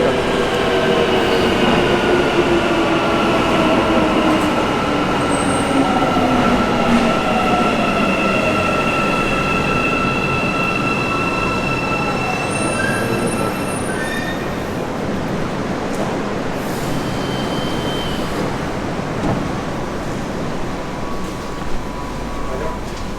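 A Mumbai metro train rumbles steadily throughout, with rising and falling whines from the motors and occasional wheel squeals, loud and continuous from inside the car.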